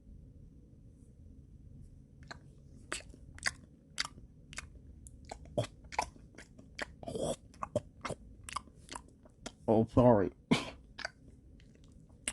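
Close, crisp crunching and chewing of food, with repeated sharp bites in an uneven rhythm and a few louder wet chews near the end. A voice briefly speaks amid the eating.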